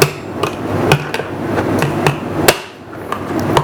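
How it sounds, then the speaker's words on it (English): Sharp, loud knocks of a knife back or hammer cracking a lobster shell, about eight irregular strikes close up, with short pauses between them and a brief quieter gap near the end. "Using the back of the knife, or a hammer if you've got one,"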